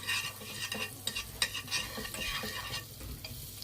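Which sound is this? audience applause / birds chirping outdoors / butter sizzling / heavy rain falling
butter sizzling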